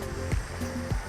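Steady wash of water with broadband noise and a couple of low surging swells, like waves rolling in close by, no voices.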